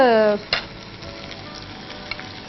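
Yogurt drops into sautéed ginger-garlic paste in a hot pan for biryani, landing with a soft thud before a steady close sizzle and faint stirring; a brief voice is heard at the very start.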